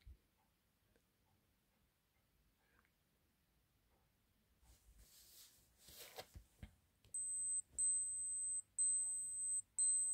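An alarm in an analog clock goes off in loud, repeated electronic beeping bursts with short gaps, preceded by faint handling clicks and rustling.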